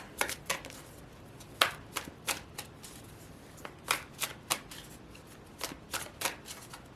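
Tarot cards being shuffled by hand, a quick irregular series of crisp riffling snaps and taps, close and fairly quiet, with no talking.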